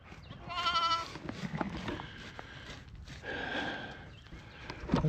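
Lambs and sheep bleating near a lambing pen on a windy day, several wavering cries rising and falling close by, with faint shuffling between calls.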